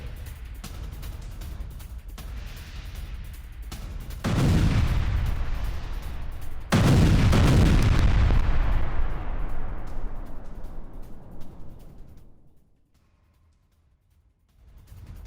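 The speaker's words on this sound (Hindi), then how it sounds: "देखिए जरा, GBU-62 गाइडेड बम से हमला किया।" GBU-62 guided bombs explode in an air attack on a Russian military base, giving two heavy blasts with deep booming rumble that decays slowly into quiet.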